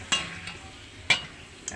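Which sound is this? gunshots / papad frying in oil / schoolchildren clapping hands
papad frying in oil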